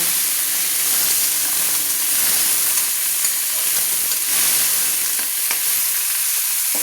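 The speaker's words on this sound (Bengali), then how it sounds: "সেই 4টা পেঁয়াজ আমি কোচানো করে দিয়ে আমি ভালো করে আমি লাল লাল করে পেঁয়াজগুলো ভেজে নেব" Four chopped onions fry in a pan, giving a steady, fairly loud sizzle and hiss that runs unbroken throughout, close by and with no talking over it.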